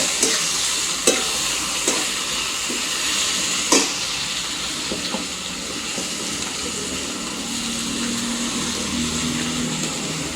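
Steady sizzling of poha tempering in a pan on a wood-fired chulha, with occasional scrapes and stirs, a few sharp clinks of a utensil against metal, no voices.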